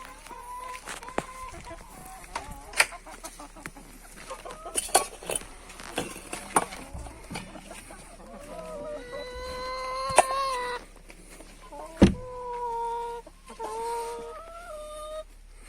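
A hen and her newly hatching chicks, shrill high peeping from the chicks repeating close by in short bursts and rising chirps, mixed with the hen's lower clucks and a few sharp knocks.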